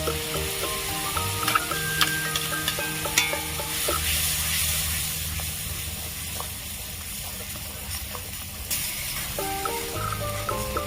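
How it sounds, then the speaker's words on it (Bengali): A ground paste of black and white mustard, poppy seed, coconut, sour yogurt and green chili sizzles loudly in a hot pan, a steady dense hiss broken by scraping stirs and small clinks of a utensil, with no talking. "এবার আমি যে মশলাটা বেটে রেখেছিলাম কালো সর্ষে সাদা সর্ষে পোস্ত নারকেল টক দই কাঁচা লঙ্কা বাটা দিয়ে দিলাম"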